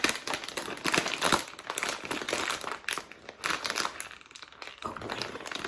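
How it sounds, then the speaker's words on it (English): Kettle Brand Chile Verde potato chip bag being opened along its perforation: close, crisp crinkling and tearing of the foil-lined bag in irregular bursts, fairly quiet, with no talk. "They got a little perforation. They want me to open it like this."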